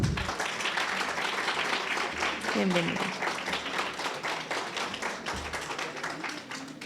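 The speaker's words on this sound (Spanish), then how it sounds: "Recibamos con un cálido aplauso a Vero Yaca" Warm applause from the audience at a panel event on crime fiction, welcoming a speaker: fairly soft, even clapping that continues throughout while a voice speaks over it.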